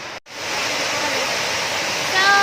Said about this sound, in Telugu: ఇప్పుడు వాటర్ సౌండ్ వినిపిస్తుందా?